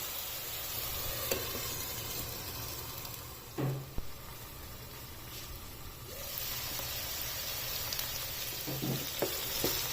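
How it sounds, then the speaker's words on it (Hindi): Mutton jalfrezi simmering covered on a low flame, a soft steady sizzle and hiss running throughout with a couple of faint clinks of the lid or spoon. "इसे कवर करके 8 से 10 मिनट तक कुक होने देना है।"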